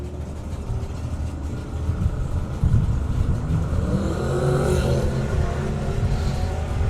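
A Wind Turbo Sunbeam drag racing car launches down the strip at a summer nationals meet, its engine a heavy, sustained low roar that swells as it pulls away.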